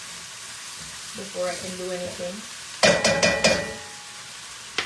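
Onions frying in oil in a pan give a steady low sizzle, with a few louder bursts of crackle partway through as a person speaks briefly over it.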